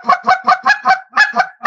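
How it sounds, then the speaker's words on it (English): A string of about eight loud, nasal honks in an even, quick rhythm from geese sitting on the ground, close by with no other sounds around them. "A lot of times you'll hear geese sitting on the ground."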